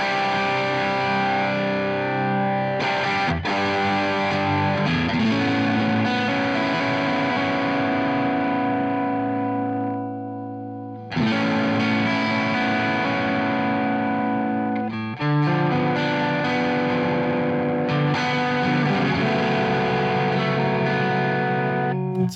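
Electric guitar chords played through Arturia FX Collection 2 distortion effects ring out loud and heavily saturated, sustained in long strummed passages that break off twice into brief silences before resuming.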